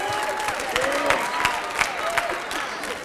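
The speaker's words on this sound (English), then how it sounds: "let's give a quick round of applause for them" A school audience at a student-government pageant gives a quick round of applause, a steady, moderately soft wash of clapping with scattered louder claps and light crowd noise.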